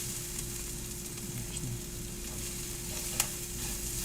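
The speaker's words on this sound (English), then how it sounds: "I'm going to add now a tablespoon of flour." Flour is stirred into melted butter in a pan for a roux, with a soft steady sizzle and faint scraping of the spoon close by, and no talking.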